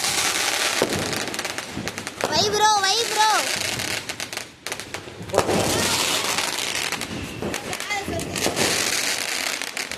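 Sharp Diwali firecracker bangs and crackling bursts go off repeatedly, loud and close, with a whistling rocket rising partway and a voice speaking briefly between blasts.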